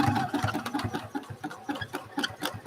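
A home sewing machine running a zigzag stitch on a quilting project, giving a quick, steady mechanical chatter of needle strokes, moderately close and fairly quiet, with no talking.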